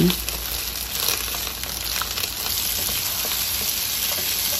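String beans (sitaw) frying in a pan alongside eggplant (talong) for adobo, a steady loud sizzle with crackling and spattering that stays constant throughout, with no voices.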